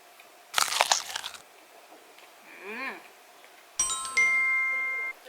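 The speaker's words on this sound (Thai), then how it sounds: "อันนี้นะคะเป็นโรตี กินไปบ้างแล้ว" Roti flatbread being eaten on Koh Lipe, giving a few crisp crunchy bites near the microphone, followed by a faint ringing chime.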